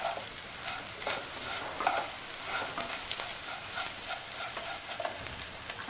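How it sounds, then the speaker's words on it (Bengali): Rice for chicken polao fries in a pan while being stirred, a close, steady sizzle broken by repeated scraping strokes, with no talking. "খুব ভালোভাবে এটাকে ভাজতে হবে চালটাকে"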